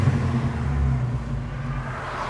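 A bagged mini truck's engine revs at idle while it sits still, a close, throaty low drone that swells and then eases back down.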